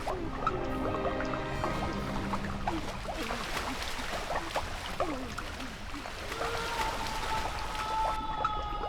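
Water splashes and drips continuously in a bathroom, with a steady trickle and scattered droplets running throughout at close range, fairly loud and without pauses.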